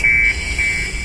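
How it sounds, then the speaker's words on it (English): An alarm in Hitman's Sapienza, Italy level, heard while the game is paused: a loud, steady electronic buzzing tone that dips briefly in the middle, with no voices. "I like how you can still hear the alarm while off."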